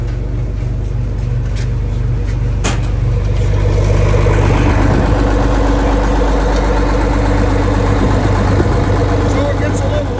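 A John Deere 5020 tractor with front wheel assist idles outdoors, a loud steady low throbbing rumble running continuously, with someone talking briefly over it.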